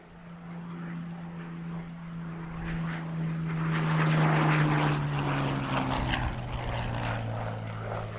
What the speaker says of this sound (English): flying quite such a complex, challenging and powerful aircraft as the Hawker Hurricane